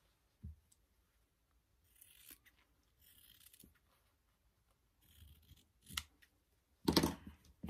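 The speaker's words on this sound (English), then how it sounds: "I'm going to cut them apart now." Scissors cutting apart sewn fabric pieces for flying geese quilt blocks, quiet close snips and soft blade scrapes in scattered bursts, ending with a sharper louder cut.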